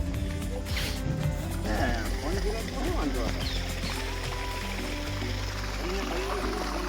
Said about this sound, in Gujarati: મોટર ચાલુ છે મિત્રો, પાણી જાય છે બગીચામાં